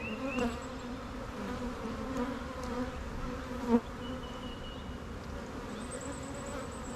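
Honeybees buzz loudly and steadily around an open hive during an inspection, a dense, continuous drone with one brief louder swell partway through and no voices.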